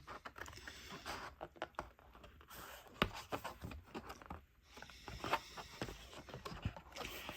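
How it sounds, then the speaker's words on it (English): Scissors snip and crunch through card in quick, uneven clicks and rustles, close by and fairly quiet, with short pauses between cuts. "Can you see I'm struggling cutting card with scissors?"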